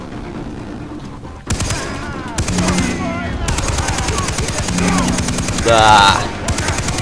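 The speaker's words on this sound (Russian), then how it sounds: "Да, вот это шикарный пулемет." A machine gun in the Far Cry 3 video game fires in long, dense bursts with a brief pause near the start, loud and close, while someone speaks Russian over the gunfire.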